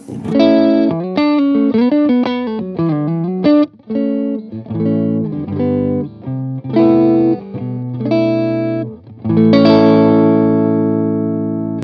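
An electric guitar played through a TremLord tremolo pedal into an Orange amp rings out in clear picked notes and chords, with a sustained strummed chord at the end and no voices.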